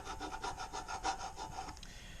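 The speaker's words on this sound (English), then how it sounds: "I'm scraping. Literally scraping hard." Hard, repeated scraping strokes work at stubborn factory paint on a Honda valve cover, a close rhythmic rasping about eight strokes in two seconds, fairly quiet and with no talking.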